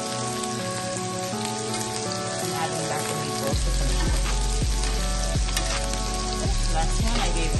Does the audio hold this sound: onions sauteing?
yes